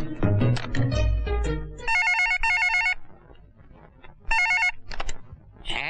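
A telephone rings as a call is placed: two bursts of electronic trilling ring, a pause, then another ring, with indistinct background sounds in the gaps and a brief tone at the end.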